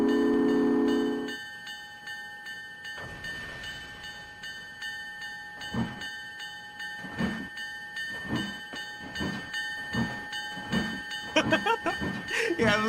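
A freight train in a video game rolls slowly with a steady low rumble and sustained tonal whine, rhythmic clanks of wheels on rail joints recurring every second or so, building toward a brighter squealing burst at the end.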